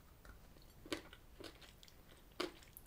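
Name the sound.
crunching a hard candied sweet in Fazer milk chocolate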